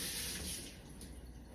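Tap water runs steadily while an onion is rinsed under it, a soft continuous splash and hiss, fairly quiet, with no talking.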